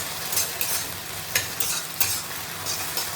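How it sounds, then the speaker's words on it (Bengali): Okra (bhindi) frying in a pan gives a continuous sizzle, with bright scraping stirs coming at irregular intervals close by. No one speaks. "দেখো আমি তো ভেন্ডি ভাজা বসিয়ে দিয়েছি"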